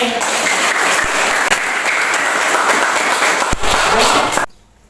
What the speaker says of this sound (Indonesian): Kita kasih aplaus ke.